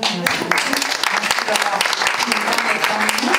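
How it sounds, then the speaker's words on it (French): An audience at a round-table event in Grasse applauds the arriving mayor, Léon Bio, with loud, close, rapid clapping throughout while someone briefly speaks over it. "je vous demande de l'applaudir"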